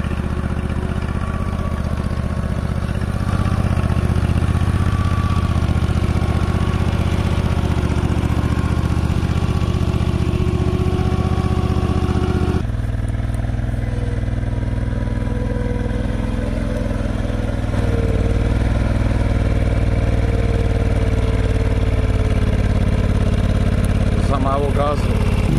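A garden tractor fitted with an electric joystick runs on cruise control, its engine holding a steady, fairly loud drone throughout with a slight shift in tone midway, while a voice seems to come and go faintly.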